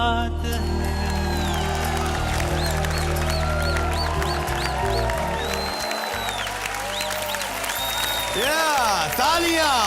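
Studio audience applauding three young child dancers on a Hindi TV game show set, steady loud clapping throughout with music and a host's voice running over it.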